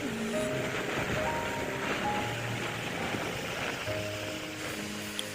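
Floodwater flowing through a neighbourhood submerged after eight days of continuous rain, a steady broad rushing wash with wind buffeting the microphone and faint tonal hums underneath.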